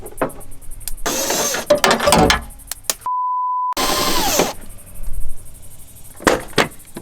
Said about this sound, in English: so there's 5 bolts we have to take out